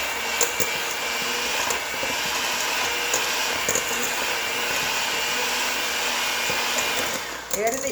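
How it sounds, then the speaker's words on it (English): Electric mixer creaming butter with granulated sugar for egg yolk butter cookie dough, a loud continuous whirring drone that runs steadily, then dips and shifts near the end. "We're going to cream this together for about a minute."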